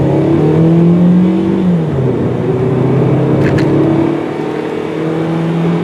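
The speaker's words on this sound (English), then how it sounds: "There, I just stepped on the gas pretty hard" A 2007 Toyota Yaris three-door hatchback accelerates hard from inside the cabin, with the engine drone rising in pitch, easing off around a gear change, then climbing again, loud and steady with no talk.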